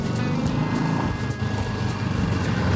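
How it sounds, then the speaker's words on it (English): Loud, steady engine drone from a 1950s Harley-Davidson motorcycle left sitting over 50 years, with a rough exhaust rumble, sustained and close, with a slight dip in the middle and no talking. "Great exhaust note."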